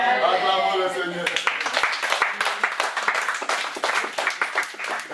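A church congregation in a worship service breaks into applause, scattered claps growing into quick rhythmic clapping after a spoken voice, fairly close and lively.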